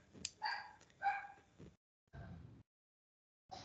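A dog barks in several short, separate bursts with pauses between them. The barks are fairly close but quiet, with no voices.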